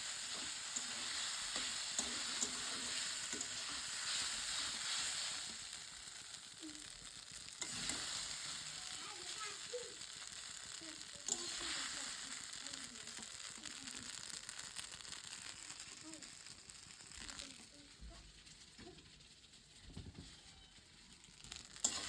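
Pasta cooking in a home kitchen pan gives a continuous hissing sizzle with scattered stirring scrapes and light knocks over about twenty seconds, fairly quiet and with no talking.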